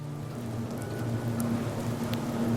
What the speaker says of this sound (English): A humid, rainy day in Melbourne's CBD.